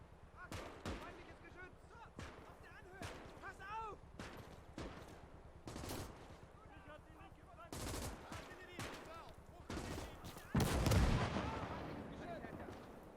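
Gunfire in a WWII real-time strategy game on the Eastern Front: a steady run of sharp, distant-sounding rifle cracks and bursts, with a heavier, louder blast near the end over a low rumbling battle bed.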